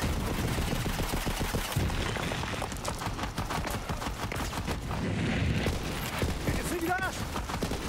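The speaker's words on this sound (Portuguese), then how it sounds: "Deixa eu testar minha arma." Rapid automatic gunfire from a weapon in Borderlands 3, dense repeated bursts of sharp shots that continue throughout, loud and close, with a brief voice heard near the end.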